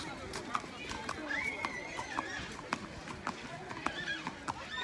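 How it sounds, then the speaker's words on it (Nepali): A horse is ridden at a crowded fair, its hooves clopping in an irregular beat through a busy, chattering crowd, with occasional whinnies and shouts. "हामी चाहिँ घोडाको सवारी गर्दैछौँ गाइस।"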